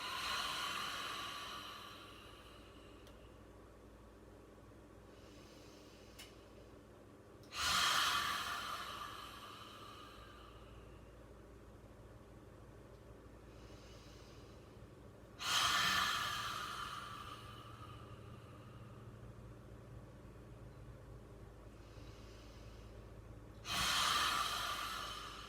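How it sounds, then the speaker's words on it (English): Deep emptying breaths during a yoga breathing practice come as three loud, forceful exhales spaced about eight seconds apart, each fading into quiet breathing, close and alone. "Keep doing a few big emptying breaths."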